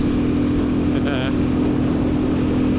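A Royal Enfield Bullet motorcycle pulling up to speed on a dual carriageway, a steady loud engine drone with heavy wind rush throughout and a brief higher whine mid-way.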